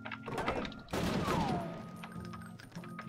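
Brutal Wolfenstein 3D gunfire: a few sharp shots, then a heavy burst near the start of the second half, all over low droning game music.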